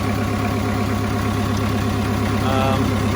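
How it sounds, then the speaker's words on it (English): A John Deere 2010 row crop tractor's diesel engine idles steadily nearby with a rhythmic low chugging throb, loud and continuous. "John Deere 2010 row crop tractor."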